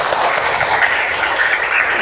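A class of ninth-grade pupils in an Islamic religious education lesson claps together at the teacher's request, a dense, steady patter of many hands lasting about two seconds without talk.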